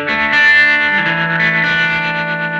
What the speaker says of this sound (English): Engage the tremolo and the reverb.